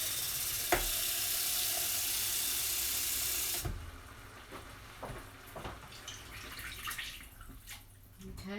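Water pours into a hot pan with tomatoes for coq au vin, a loud hissing rush for a few seconds that drops abruptly to a soft bubbling simmer with small clinks.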